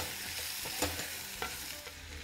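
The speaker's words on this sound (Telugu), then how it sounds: "కొంచెం తాలింపులో కంద ముక్కల్ని వేగనీయండి." Elephant foot yam pieces fry in hot oil tempering with a soft, continuous sizzle, punctuated by a few faint clinks of a spatula stirring in the pan.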